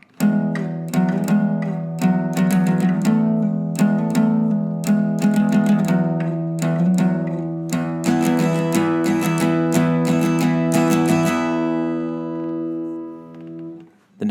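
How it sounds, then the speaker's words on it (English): Guitar plays the verse of a song from the top, a steady strummed chord pattern with regular down-up strokes, close and fairly loud, fading out on a final held chord with no voices. "And now here is the entire verse played from the top."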